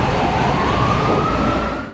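An ambulance siren blares on a New York City street, loud and close, a sustained rising tone over dense traffic rumble that cuts off near the end.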